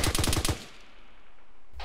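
A rapid burst of about six automatic gunshots in the ArmA 3 video game, loud and close and evenly spaced, then fading into a quiet tail.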